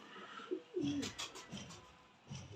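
Teddy pigeons, a released pair, give soft, throaty coos in a few low, rolling bursts, close and clear over faint background noise.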